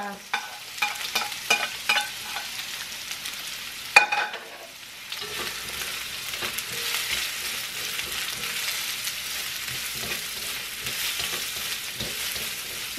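Onions frying with ginger and garlic in a pan for spicy chicken adobo, a loud spatter and hiss after a sharp clatter near four seconds, then a steady sizzle under brisk scraping and clinking of a spatula.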